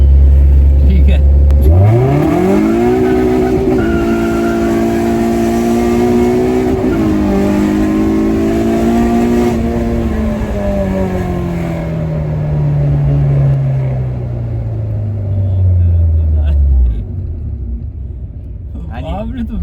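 A 230hp K24-engined car launches hard from idle, its exhaust roar climbing steeply through the revs, holding a loud, strained pitch, then easing down as it slows, heard from inside the car with voices underneath.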